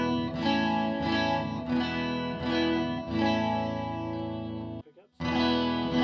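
Rickenbacker 370/12 twelve-string electric guitar played through its neck pickup with all tone controls at maximum, ringing strummed chords with a shimmering chorus-like jangle, struck in a steady rhythm, briefly stopping before one last chord.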